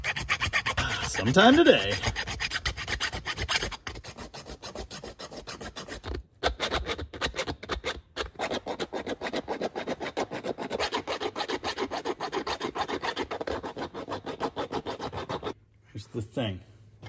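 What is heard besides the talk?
hand filing a slot in a metal distributor part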